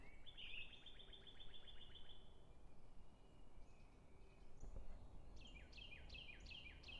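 Birds chirp in a forest, with a run of rapid high trills early on and sharper repeated chirps toward the end, all over a soft steady background hiss.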